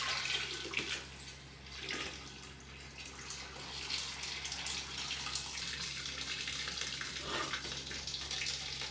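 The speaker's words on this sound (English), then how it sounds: "Rinsed out my grain." Brewing grain being rinsed with water, a steady, continuous rush of running water that holds an even level from start to finish with no voices.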